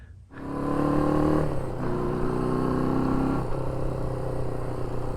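A 1974 Honda CB550 motorcycle ridden away after restoration, its engine revving up through steady droning tones with a couple of gear changes, heard close and continuous without talk.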